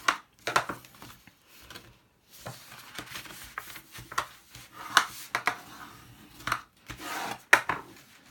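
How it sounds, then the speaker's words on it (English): Score lines being burnished on foil paper while making a snowflake gift bag: a series of short, close scraping and rubbing strokes in uneven bursts with brief pauses, no talking. "Turn it around and burnish the first score line."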